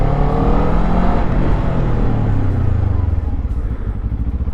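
A Kawasaki Z7 Hybrid motorcycle rides slowly around a parking lot, its engine a rough, steady low drone with some clatter that eases slightly toward the end, with no talk over it.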